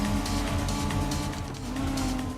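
Dodge Viper engine in the PS1 Gran Turismo game, a loud, buzzy, steady drone held at high revs, close and continuous with no talk.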